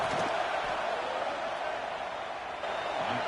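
Steady roar of a college football stadium crowd before a field goal kick, a dense, continuous wash of noise from many voices with no break.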